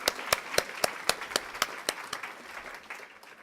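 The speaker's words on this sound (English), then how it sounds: "Please give yourself a round of applause." Applause at a college graduation ceremony, made of sharp, evenly spaced claps close by in a quick regular beat that gradually softens toward the end.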